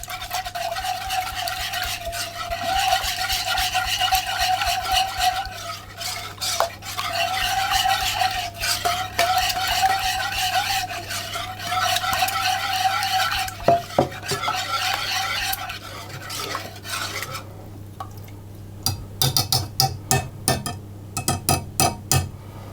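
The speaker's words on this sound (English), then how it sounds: "I'm going to put in the sugar and the egg yolks, and again I'm going to mix those around until everything is combined" Sugar and egg yolks for a lemon meringue pie are stirred in a bowl, a close, steady scraping whisk with repeated rhythmic strokes, ending in quicker sharp taps against the bowl.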